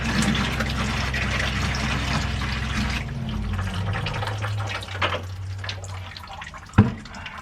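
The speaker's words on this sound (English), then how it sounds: "test the water coming through the shower mixer." Water sprays hard from a camper van's shower mixer into a bucket, a loud rushing hiss with low plumbing hum that slackens midway and ends with a sharp knock, no talk.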